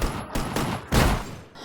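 Several loud gunshots crack in a fast burst, with a heavier shot near the middle of the volley, from a shootout scene in the film Baby Driver.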